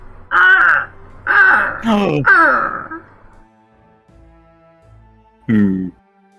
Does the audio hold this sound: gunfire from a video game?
no